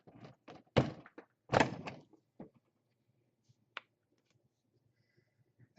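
A reloading press pushes .223 brass into a Lee sizing and decapping die to convert it to 300 AAC Blackout, giving a couple of loud metallic thunks close to the microphone, followed by quieter clicks and taps.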